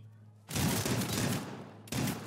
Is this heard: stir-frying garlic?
no